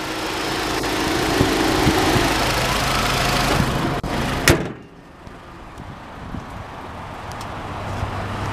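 A 2012 Nissan Rogue SV with a 2.5-liter inline four-cylinder and CVT idles steadily, a loud close engine hum broken by a sharp door thud midway, after which the idle continues quieter.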